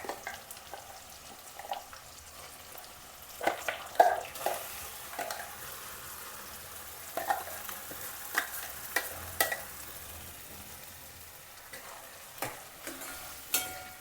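Tomato and ground chili paste sizzle softly in tempering oil over a low flame, with a quiet continuous fry broken by occasional clicks and scrapes of stirring.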